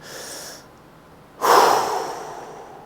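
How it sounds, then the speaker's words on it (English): A deep breath taken in a gym: a soft inhale, a pause, then a louder, longer exhale close to the mic. "it feels so good right now just to take a deep breath"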